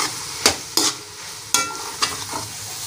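Okra stirred with a spoon in a hot pan of gravy: a steady sizzle with four or five sharp scraping strokes of the spoon, close and clear.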